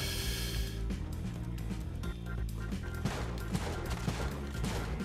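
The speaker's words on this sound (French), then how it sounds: "Cette fois, mon fusil a été plus rapide." Shotgun blasts in the video game Spelunky 2 ring out as several sharp, punchy shots over steady looping game music, fairly loud and evenly spaced.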